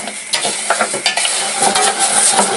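Rice grains being stirred in a hot pan to coat them, a steady dry scraping and sizzle with repeated spoon strokes and light knocks, close and fairly loud with no talking.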